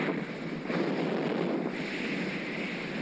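Strong wind buffets the microphone while riding a Specialized Turbo Vado SL e-bike into a headwind through Macclesfield Forest, a steady loud roaring rush that swells slightly after the first moment and continues unbroken.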